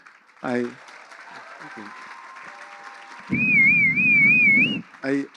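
Applause breaks out from the audience at a tribute dinner, a loud burst of clapping and cheering with a whistle rising above it, set between someone speaking before and after.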